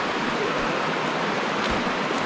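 Water rushing at a stream crossing on the Rae Lakes Loop hiking trail, a constant broadband roar close by with no talking.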